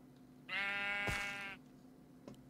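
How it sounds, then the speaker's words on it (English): A single sheep in Minecraft gives one clear, drawn-out bleat lasting about a second, close and loud against a quiet game background, followed by a faint click. "Sheep, I'm going to kill you because you're annoying me."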